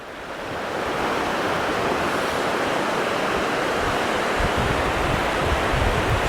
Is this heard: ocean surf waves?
yes